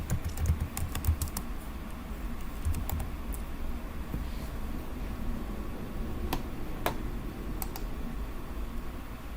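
Rapid typing on a computer keyboard during a Gen AI lab setup, with close, steady clicking keystrokes and a few sharper taps over a low background hum, and nobody speaking.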